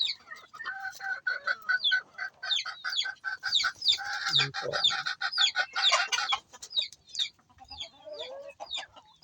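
Chickens and ducks in their newly built coop cluck and squawk close by in busy, overlapping bursts, with a short low call in the middle and no talking.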